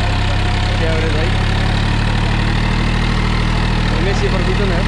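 A 2019 Massey Ferguson 245 DI 50 HP tractor fitted with a 7-foot rotavator idles up close with a steady low diesel rumble, while voices talk over the engine.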